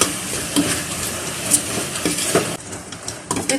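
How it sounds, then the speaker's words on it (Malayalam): Chicken curry masala stirred and mixed in a sizzling pan, with a steady frying hiss and irregular scraping and clinking of a spoon against the pan, close and fairly loud. "ഇത് നന്നായി മിക്സ് ആക്കുക."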